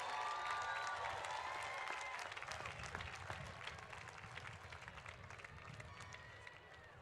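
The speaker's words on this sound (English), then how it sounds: "give them a big round of applause." Graduation audience at a Cal Poly spring commencement ceremony applauding, a dense, steady wash of many hands clapping that slowly fades, distant and fairly quiet throughout.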